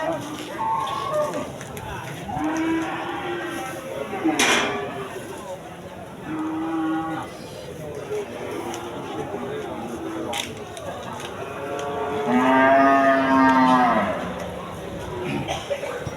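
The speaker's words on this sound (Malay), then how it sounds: "juga terlihat banyak sapi-sapi besar" Large cattle at a busy livestock market before the meugang holiday let out several deep, drawn-out moos spaced across the scene, amid people talking and background market bustle.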